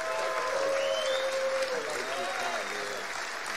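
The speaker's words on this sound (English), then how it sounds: "give Nikita a loud round of applause" A standing audience gives a loud round of applause for wrestler Nikita Koloff at an award event, a steady wash of clapping and crowd noise lasting a few seconds, with voices mixed in.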